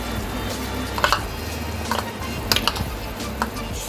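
A spoon stirs yogurt masala into simmering tomato gravy for bhindi masala, giving steady close scraping and a soft sizzle, with a few sharper clacks of the spoon against the pan.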